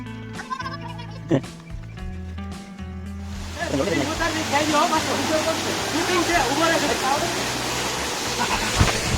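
A hillside waterfall in the Morchupana hills flows with a slow trickle, a steady rushing wash that swells after a few seconds, while people talk nearby and a goat bleats at the start.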